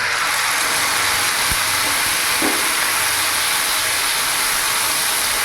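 Spice paste hisses loudly as it hits onions frying in a pan for a palak paneer recipe, a steady, close, bright sizzle that continues evenly with a faint clink or two.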